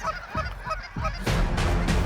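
A flock of geese honking repeatedly overhead in open country during a waterfowl hunt, overlapping calls growing louder and denser toward the end, with no talk.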